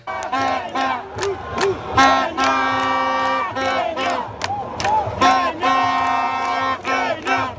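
Stadium crowd at an AFCON football match roaring and chanting loudly and continuously, with surging rhythmic vocal swells and whistles filling the space, no distinct single voice standing out.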